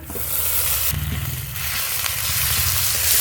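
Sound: frying ginger-garlic paste with onions

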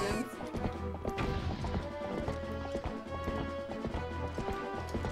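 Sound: horse hooves clip-clopping in a video game

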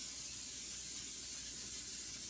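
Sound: cooking spray sprayed onto a pan

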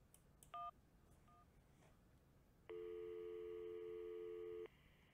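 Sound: telephone dialing and busy line in the video game Syberia

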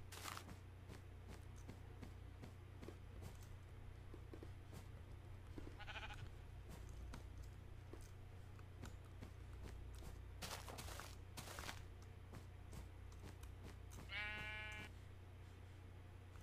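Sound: sheep bleating in the video game Minecraft

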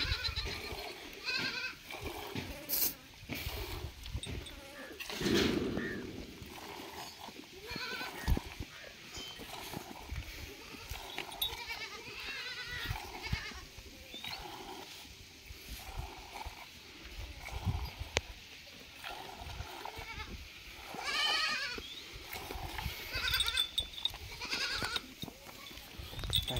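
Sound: goats bleating during milking

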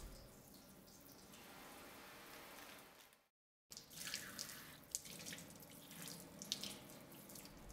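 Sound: hands rinsed under running tap water during surgical scrub

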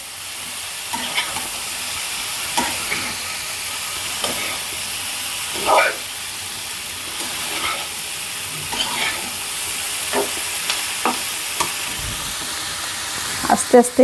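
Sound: sautéing food in a wok

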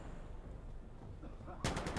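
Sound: gunfire in video game Insurgency Sandstorm

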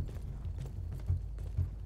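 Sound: horse hooves in the video game Battlefield 1

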